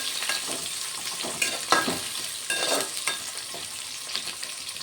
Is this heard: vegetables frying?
yes